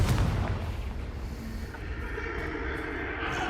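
A Confringo spell explosion in Hogwarts Legacy on PS5 lands as a heavy rumbling boom, a sharp burst at the start that then rolls on as a low, fading roar.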